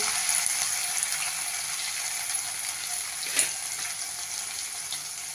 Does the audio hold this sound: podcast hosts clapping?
no